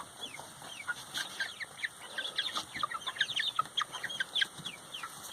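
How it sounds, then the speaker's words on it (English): A young rooster in a chicken coop clucks in quick, faint, irregular chirps alongside other hens. "There's the young rooster."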